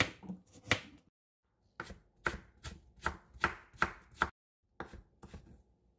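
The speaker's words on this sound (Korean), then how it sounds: "당근도 얇게 썰어놔 주세요" A knife chops thinly sliced carrots on a cutting board for flower kimbap with black rice, giving a quick run of crisp, evenly spaced cuts, a brief pause, then more steady chops and a final couple of strikes, close and clear.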